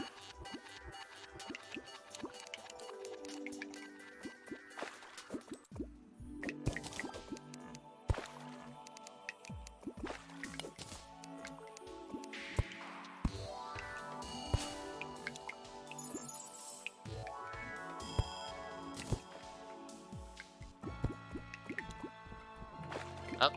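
Water drips and splashes into a water farm in Terraria, a run of wet plinks and gurgling pours under game music, fairly quiet and irregular.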